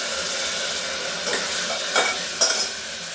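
Spices sizzle and fry in a hot pan while being stirred, for a potato and pea curry served with puri; a steady close hiss with a couple of louder scraping stir strokes, no talking.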